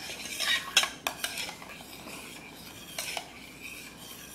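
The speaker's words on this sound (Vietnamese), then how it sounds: "Khuấy đều nó lên chút." A spoon scrapes and clinks against a pot while milk is stirred into mashed potatoes, a steady soft rasping with a few sharper metallic taps, close by and without speech.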